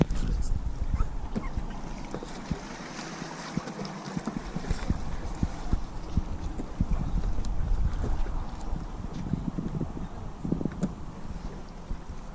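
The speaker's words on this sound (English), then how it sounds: "I'll just drag my boat." Kayak hull dragged along the shore, a long continuous scraping and rumbling with irregular knocks and bumps, fairly close, with wind noise over the microphone throughout.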